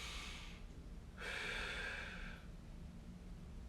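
A single audible exhale, about a second long, comes through softly during a T-spine and low back mobility exercise, set against a quiet room hum.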